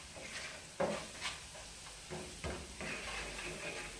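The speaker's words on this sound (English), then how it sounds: "I'm going to stir that in real quick" Stirring ingredients in a pot for chicken pot pie, a few scraping, clattering strokes over a soft steady sizzle, close and moderately quiet.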